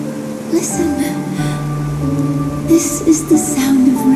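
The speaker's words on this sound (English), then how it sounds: "This is the sound of rain." Steady rainfall hisses quietly in Honkai: Star Rail under swelling music and faint breathy vocal sounds across the short stretch.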